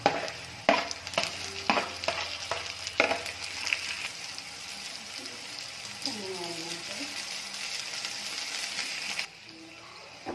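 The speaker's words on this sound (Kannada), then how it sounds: "ಈರುಳ್ಳಿ ಈಗ ನೀಟಾಗಿ ಎಲ್ಲ ಚೆನ್ನಾಗಿ ಎಣ್ಣೆಯಲ್ಲಿ ಫ್ರೈ ಆಗಿದೆ" Onion and tomato fry in oil in a pan for shavige upitu, with a run of sharp clinks and scrapes from stirring at first, then a steady close sizzle.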